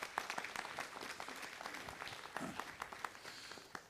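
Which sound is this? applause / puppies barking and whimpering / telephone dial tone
applause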